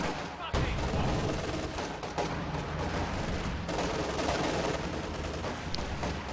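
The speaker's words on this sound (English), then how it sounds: "They're gonna get cut down by these top-mount machine gun plus LMG grenadiers" Sustained machine gun and LMG fire with scattered explosions in a real-time strategy battle, dense and continuous bursts of shooting throughout, with a sharp loud crack near the start.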